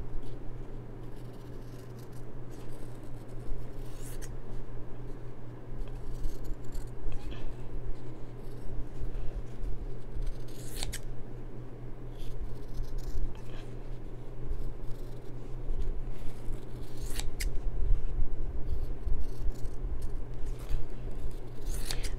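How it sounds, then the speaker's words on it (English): Sharp scissors snip through fabric around machine embroidery stitching, giving soft, steady rustling cuts with occasional crisp snips over a low background hum, close and quiet, with no talking. "you want to take a sharp pair of scissors and you want to go, like I said, around"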